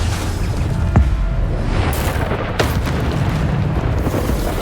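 Spell explosions from the Hogwarts Legacy video game, including Bombarda and Depulso casts in a trial, come as heavy booming blasts over a constant low rumble, with a couple of sharp bursts standing out.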